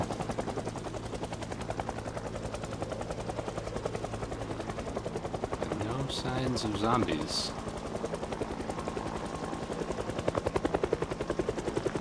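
A video game helicopter runs continuously with a steady, rapid rotor chop and engine drone throughout, while someone talks over it and a brief louder whoosh passes midway.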